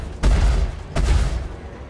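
Heavy guns on the Freelancer ship in Star Citizen's Vanduul Swarm mode fire two booming, deep blasts less than a second apart, each one loud and close with a rumbling tail.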